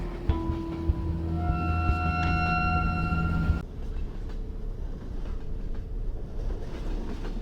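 A moving train in the video game Underhell rumbles steadily with a low, sustained tonal hum that drops out partway through, leaving dense wheel and track noise running on alone.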